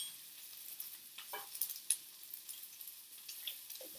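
Onions, garlic and curry paste fry in a pan with a faint, steady sizzle and a few soft ticks and scrapes, heard alone and fairly quiet.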